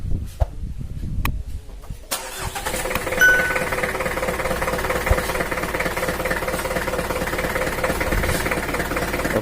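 A Mitsubishi Kuda 4D56 diesel engine cranks, starts after a few sharp clicks and clatters, then settles into a steady, close, even idle.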